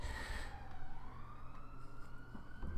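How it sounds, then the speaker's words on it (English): A police car siren passes by outside, faint and distant, a wailing tone that rises and falls as it goes, heard over a low steady hum indoors. "Police car going past."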